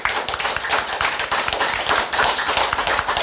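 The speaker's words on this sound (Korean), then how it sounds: "크게 박수로 하나님께 영광." A church congregation claps loudly in praise during a Korean sermon, a crisp, fast run of hand claps in brief surges with slight dips between them.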